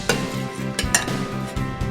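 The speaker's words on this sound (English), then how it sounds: "you just need to take a spoon and crush that down" A metal spoon crushing and stirring cinnamon and sugar in a bowl, giving repeated scraping clinks and gritty grinding strokes in a steady rhythm, close and fairly loud with no talking.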